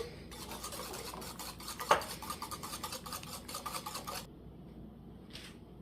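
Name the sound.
egg being stirred into chocolate cookie dough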